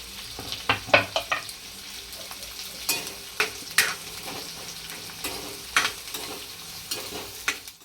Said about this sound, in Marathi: लगेच कांदा मिरची टाकून घेऊया